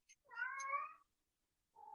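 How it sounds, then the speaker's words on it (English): A pet cat gives one drawn-out, wavering meow, soft and somewhat distant in a home kitchen, followed by a short start of another call, with no talk over it. "That is our cat Izzy, obviously thinking she should be involved"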